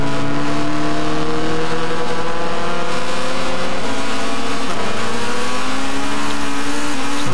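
Red Bull X2014 Jr race cars in a racing video game, engines droning loud and steady with pitch climbing and dropping at gear changes, no voices over them.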